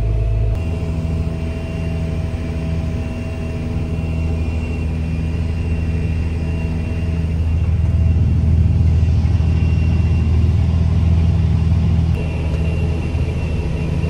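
Tractor pulling a disc harrow across a meadow field during seedbed preparation, a continuous loud low engine drone with a steady whir that swells slightly midway, no voices.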